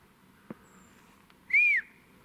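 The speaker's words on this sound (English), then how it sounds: "First whistle." A single clear whistle, rising then falling, sounds in the woods during a Bigfoot search, following a soft knock and faint rustling in an otherwise quiet forest.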